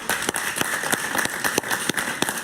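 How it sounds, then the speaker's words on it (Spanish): Studio audience applause on a Spanish-language television talk show, steady and dense with sharp claps running throughout, loud and close, with no talking over it. "Un aplauso para ella,"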